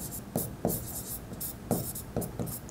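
A pen writes on paper during a Class 9–10 accounting lesson on a trial balance, giving several short scratchy strokes in a loose, uneven rhythm, close and fairly quiet, with no talking.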